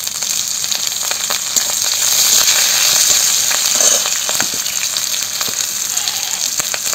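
Chopped ginger, cumin and green chili frying in hot oil, a steady close sizzle with brief louder bursts as the spices hit the pan, no talk over it.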